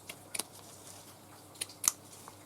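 A few quick snips of sharp scissors trimming the sides of a journal cover close by, two small clusters of sharp cuts against a quiet background, no speech.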